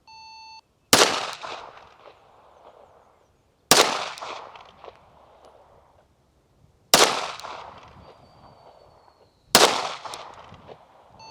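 Four sharp, loud rifle gunshots during a WW2-style marksmanship drill, spaced a few seconds apart, each with a ringing decay and echo trailing off before the next.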